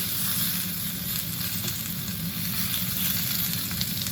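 Steady loud sizzling of steak frying in oil on a griddle pan, a continuous dense crackle that holds even throughout without talk.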